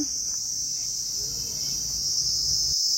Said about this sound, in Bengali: একটা হালকা ঝিঝি পোকার ডাক এই শান্তশিষ্ট পরিবেশের শান্তিভঙ্গের অবিরাম চেষ্টা চালিয়ে চলেছে